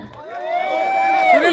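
A live audience cheers and whoops in a brief, loud burst of rising shouts and crowd noise.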